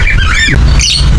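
Lovebirds on a farm squawk and chatter loudly and close, with harsh rising calls over a dense, noisy background.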